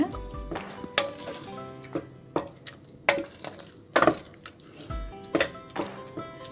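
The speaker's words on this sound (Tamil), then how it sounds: "இப்போ நல்லா கிளறி விட்டுக்கோங்க." Kodo millet pongal being stirred in a pressure cooker after adding jaggery syrup, with thick wet scraping and clanks of a ladle against the metal at irregular intervals, plus occasional soft drips.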